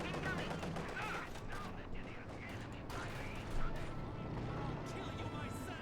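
Machine gun fire in a Company of Heroes 2 match between Wehrmacht and Soviet forces, a dense rattling burst running steadily under continuous talk with scattered other battle noise.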